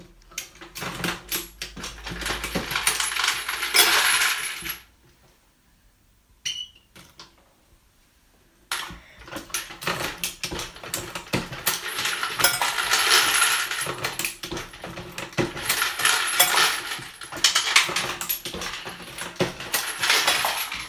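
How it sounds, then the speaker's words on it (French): A Dillon XL650 reloading press with a bullet feeder cycles repeatedly, producing metallic clatter and clinking of cartridge cases in bursts separated by a brief quiet pause. "je recharge avec la presse Dillon 650 XL"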